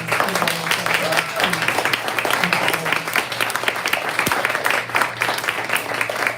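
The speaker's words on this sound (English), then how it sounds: "If we could just give one more round of applause" An audience at a live poetry reading applauds, a dense, sustained round of clapping that holds steady throughout with murmurs of voices mixed in.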